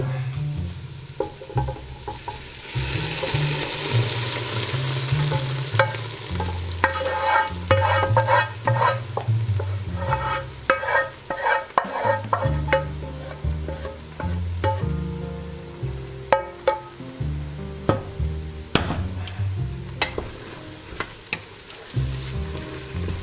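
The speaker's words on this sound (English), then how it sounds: "I'm going to add that roux in. I got a nice chocolate color. I'm just going to add it to the pot." Dark chocolate-colored roux stirred into a pot of gumbo, with continuous sizzling and frying plus repeated spoon scrapes and knocks against the pot, close and busy throughout.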